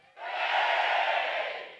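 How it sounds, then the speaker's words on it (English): An audience at the Lakeland briefing lets out a big, loud cheer that swells quickly, holds steady for over a second as a dense roar of voices, then fades. "let's have a big cheer!"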